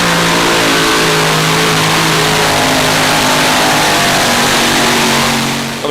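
A super modified pulling tractor revs hard at a tractor pull at Lucas Oil Speedway, a loud, steady, sustained engine roar that fills the whole stretch without a break.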